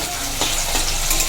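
Garlic fries in a pot for a duck masala curry with small diced potatoes, giving a short, steady, close sizzle with light stirring scrapes.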